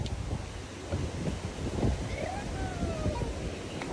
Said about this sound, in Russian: когда снимаю, вечно сумасшедший ветер на улице